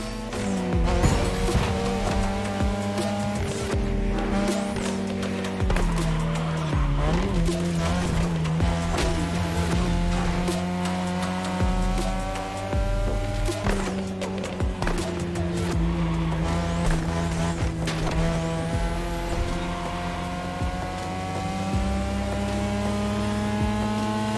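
Racing cars in The Crew Motorfest, Japanese street racing, roar steadily and loudly with engines holding and shifting pitch, tires squealing through corners, continuous without pause.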